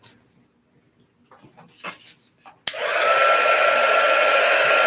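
A hair dryer drying a section of chalk paste on a surface switches on after a few soft handling clicks and rustles, then runs as a loud, steady, close-up blowing roar to the end.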